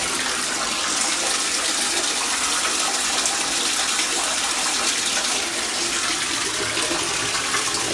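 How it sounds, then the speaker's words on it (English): Water pouring steadily into a hot tub, a loud, even gushing rush like a bathtub filling, continuing unbroken throughout. "here's how you fill up the hot tub"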